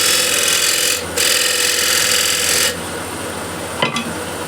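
A lathe tool shear scraping a bead on a walnut or cherry wooden plate, a steady hissing scrape that cuts off briefly, resumes, then stops, followed by a sharp knock.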